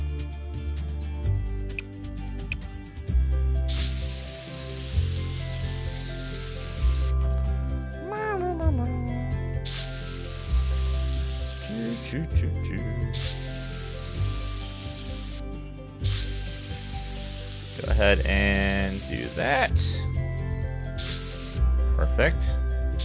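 Rocks being spray painted in The Sims 4 give several long, loud hissing bursts that repeat at fairly even intervals over steady game music, with a few brief chirps between them.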